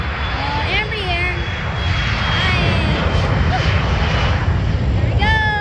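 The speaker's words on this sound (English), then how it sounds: "Embraer." An Embraer airplane at John Glenn airport gives off a loud, steady engine roar with a rising and falling whine, heard over people chatting nearby throughout.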